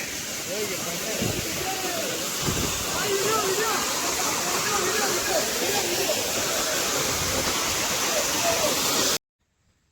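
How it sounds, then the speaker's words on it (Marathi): Steady broadband rush of a waterfall near Bhandardara in the rain, loud and continuous, with a voice talking over it before it cuts off abruptly near the end. "असं काय हा वॉटरफॉल आहे एकदम बेस्ट."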